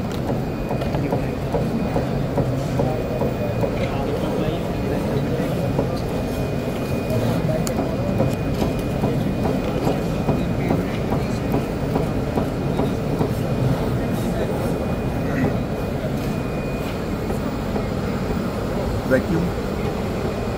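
A digital flat bed sticker cutter, model 6698 with a 24x36 inch bed and vacuum air suction, cutting a box produces a steady mechanical rumble and rattle with a faint constant whine, running continuously under a man's speech.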